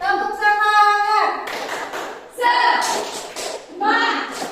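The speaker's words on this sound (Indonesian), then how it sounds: "Kiri, kanan, tepuk semangat." A class of pupils claps in a rhythmic spirit cheer led by a teacher, bursts of hand claps alternating with a chanting voice, lively and close in a classroom.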